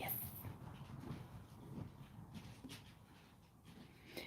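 Dog whimpering, faint soft whines and breathy sounds over a quiet indoor background.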